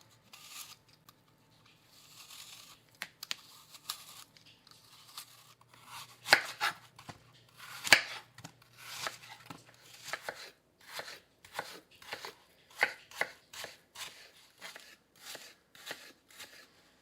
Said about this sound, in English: So we want to get these peeled and chopped up.